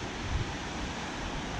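Ocean surf breaks on the beach at Mallipo in Taean, Korea, a dense continuous wash of waves with heavy wind buffeting the microphone.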